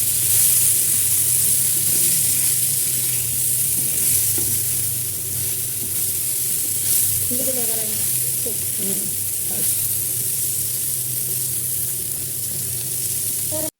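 Pieces of pointed gourd fry in hot oil in a frying pan, giving a steady, close hiss and sizzle with stirring scrapes midway, beneath soft background music.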